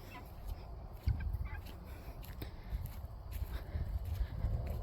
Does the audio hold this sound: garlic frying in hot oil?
no